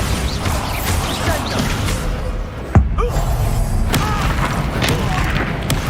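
A single loud, sharp blast from a Bombarda spell in Hogwarts Legacy hits near the middle, punching through a constant backdrop of game music and effects, with a voice shouting just before it.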